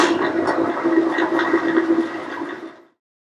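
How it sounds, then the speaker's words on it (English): A power drill whines steadily while drilling out tube rivets on a Model T generator, a close, sustained buzzing tone that winds down and stops near the end. "Now we're going to drill out the other tube rivets."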